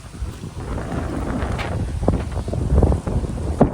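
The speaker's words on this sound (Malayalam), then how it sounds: "നല്ല കാറ്റുണ്ട്. ഫോൺ പറന്നുപോകുന്നുണ്ടോ?" Strong wind gusts across a lakeside spot in Germany, buffeting the microphone with a steady, loud rumble and no voices.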